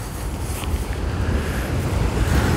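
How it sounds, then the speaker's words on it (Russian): Sea of Azov surf at the Peresyp shore in October: a continuous broad roar of waves washing in, loud and close, mixed with heavy wind buffeting the microphone, no voices. "Дам вам послушать еще морюшка."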